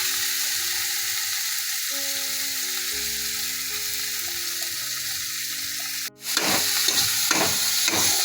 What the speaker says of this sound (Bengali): পেঁয়াজ কুচি টমেটো কুচি লঙ্কা কুচি সব দিয়ে এগুলো তেল দিয়ে ভাজবো